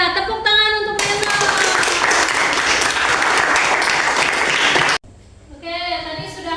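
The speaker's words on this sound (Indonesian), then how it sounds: "Ya, tepuk tangan untuk Reno." A classroom of students claps for a classmate, a dense burst of applause lasting several seconds that stops abruptly, with a teacher's voice heard before and after.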